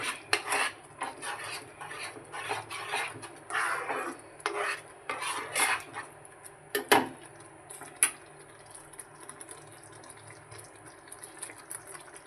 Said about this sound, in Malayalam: നമുക്കിനി ചേർത്ത് കൊടുക്കേണ്ടത് 2 സ്പൂൺ നെയ്യാണ്. നന്നായിട്ടൊന്ന് ഇളക്കി കൊടുക്കുക.